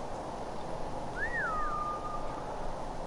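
In Ghost of Tsushima, a single short two-note whistle rings out to summon a horse, clear over a steady background hum.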